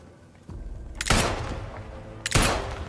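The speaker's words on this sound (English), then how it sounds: "I'm shooting." Two sharp gunshot blasts in the game Atomfall ring out loud and close, the first near the start and the second about a second later, each trailing a rumbling decay.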